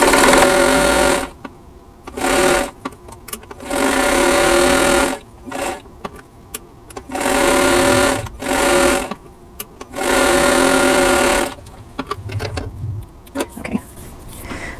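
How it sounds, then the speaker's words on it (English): Domestic sewing machine stitching a quilt block, loud and close, running in repeated bursts of a few seconds each with short pauses between, ending in lighter handling noise. "I'm just going to swing them around and then sew down the other side."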